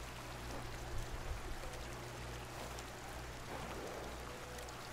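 Gentle flowing river water as a Pachycephalosaurus dinosaur drinks in The Isle Evrima video game, a faint, steady wash of splashing and rippling with a low hum underneath.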